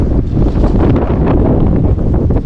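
Winter wind gusts pound the microphone between buildings on a street in Bar Harbor, Maine, a loud, dense, continuous rumbling roar with no voices.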